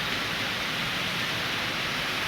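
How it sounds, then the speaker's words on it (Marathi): Heavy rain pours steadily over a farm field, a dense, even hiss of downpour close around with no pauses or voices. "बापरे भयान पाऊस आहे भयान."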